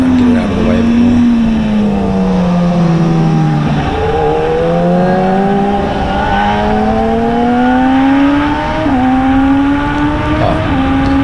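A BMW S1000RR sport motorcycle at a Hampton Downs track day, its engine loud and close from the rider's seat, droning and rising steadily through the gears with brief dips at shifts, with a voice talking over it.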